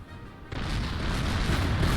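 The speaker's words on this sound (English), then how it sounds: "And they're also bombing them here at this village." German bombing of a village in the strategy game Order of Battle: WW2, a sudden deep explosive boom that swells into a sustained rumbling roar, loud and close with no voices.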